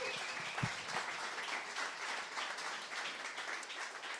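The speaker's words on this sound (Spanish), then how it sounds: "denle un aplauso a Jesús." Applause from a church congregation during a Spanish-language sermon, steady dense clapping with a brief low thump near the start, filling the room at moderate level throughout.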